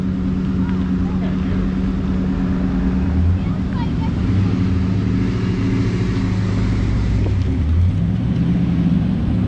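A supercharged Roush Mustang does a burnout at a car show, a loud, steady engine roar with a rough low rumble that surges midway, heard amid crowd noise.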